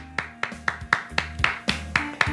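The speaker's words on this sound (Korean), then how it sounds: "우리 하나님께 영광의 박수 드리겠습니다" A church congregation at a Wednesday worship service claps in a steady, even rhythm of about eight crisp, loud claps, with sustained musical tones underneath.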